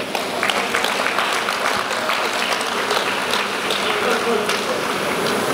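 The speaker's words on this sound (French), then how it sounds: "Oui, vous pouvez vous applaudir." An audience at an International Women's Day speech claps and applauds steadily throughout, a dense patter of hands at moderate distance.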